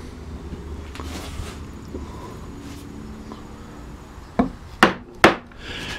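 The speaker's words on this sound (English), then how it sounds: "It's back to that number 7 gouge." A number 7 gouge carving a wooden box front: soft rubbing and scraping of the blade through wood, then three sharp, close knocks near the end, no speech.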